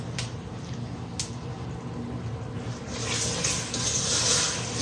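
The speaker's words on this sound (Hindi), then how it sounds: "साथ ही ये थोड़ा सा दूध डाल देंगे। इतना दूध डालेंगे कि चीनी को हमने इसमें मैश करना है।" Milk is poured onto sugar in a pan while making zarda, Pakistani sweet rice, giving a steady close liquid pour that swells slightly toward the end, with no talk.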